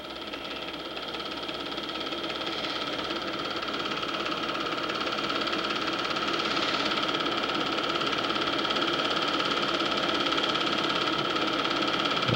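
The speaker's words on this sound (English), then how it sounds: "There's Gene pulling himself out with his winch." A 1966 4x4 truck at a northeast Iowa four-wheel-drive club outing hauls itself out with its winch, giving a steady, continuous mechanical whine and engine drone that holds at an even, fairly loud level throughout with no talk.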